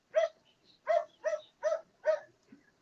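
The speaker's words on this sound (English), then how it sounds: "Please excuse the dogs" Dogs bark in five sharp, evenly spaced bursts close by, with a faint whimper trailing at the end; no one speaks.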